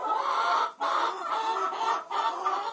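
Chickens cluck steadily and close by in a dark shelter, a dense run of calls with brief pauses and no talking.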